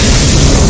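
Anime Fire Wheel sword attack effect: a dense, loud, full-band explosive blast that roars steadily through its short length.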